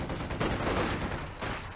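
Rapid bursts of MP40 submachine gun fire in a Company of Heroes 2 World War II battle, dense overlapping gunfire rattling continuously amid a busy combat soundscape with no talk.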